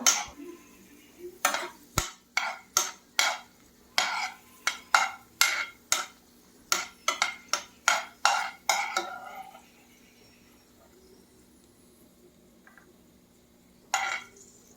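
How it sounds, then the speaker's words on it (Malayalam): Cashews and spices roasting in a pan while being stirred, giving a steady run of about twenty sharp metallic clinks of a spoon striking the pan, then quiet with a couple of later taps. "അപ്പോൾ നമുക്ക് ഒന്ന് റോസ്റ്റ് ചെയ്തെടുക്കാം"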